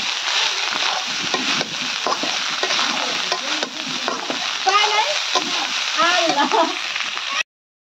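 Cooked rice is stirred into a fried egg in a hot pan, giving a continuous sizzle with scraping spatula strokes throughout. A voice talks at times over the cooking.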